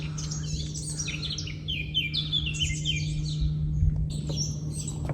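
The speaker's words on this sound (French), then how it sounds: "Mais là, il y a plein d'oiseaux. Partout dans les arbres." Many birds chirp and tweet together in trees, a dense overlapping chorus of quick, high calls over a steady low hum, continuous and fairly close, with no talk.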